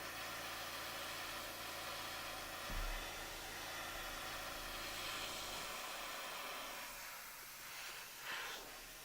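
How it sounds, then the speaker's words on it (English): A hair dryer runs with a steady, even whoosh and hiss the whole time, with no talking. "So if you use a hair dryer, run it on cool."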